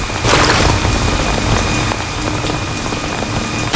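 Steady rain pouring down outdoors, a dense, loud hiss of drops on surfaces that runs unbroken from start to finish with no talking.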